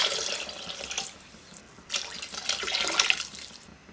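About three glasses of water are poured into a pot of methi rice (menthya bath) with spiced masala, a close splashing, gushing stream that pauses briefly and then resumes.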